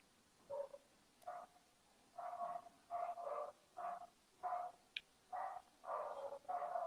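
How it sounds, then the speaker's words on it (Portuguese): A neighbour's dog barks somewhere nearby, a series of about ten evenly spaced, fairly faint barks with short gaps between them and no talk over them. "Eu sei que tá latindo aí."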